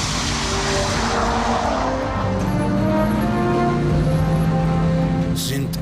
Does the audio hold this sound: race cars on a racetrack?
yes